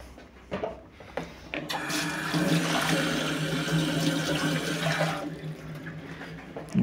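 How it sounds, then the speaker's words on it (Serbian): Water poured over a bicycle tyre: a few soft knocks, then a steady rushing, splashing hiss lasting several seconds before stopping abruptly, close by and without speech. "A sad ću probati da to sve pokvasim."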